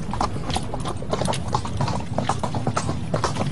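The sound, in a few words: horse hooves clip-clopping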